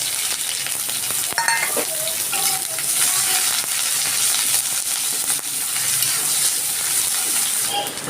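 Red chili, garlic cloves and onion frying in hot oil in a pan, a steady close sizzle with occasional stirring scrapes and small pops throughout.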